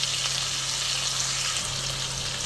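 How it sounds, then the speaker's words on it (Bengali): Rohu fish pieces, rubbed with salt and turmeric, fry gently in a pan with a steady, even sizzle and hiss that holds at a constant level from start to finish, with no talking. "এবার এই মাছগুলোকে আমি একটু নরম করে ভেজে নেব"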